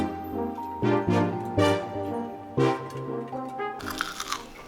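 A fried chicken nugget with a Doritos coating is bitten and chewed, giving several loud, close crunches in quick succession, followed by softer chewing.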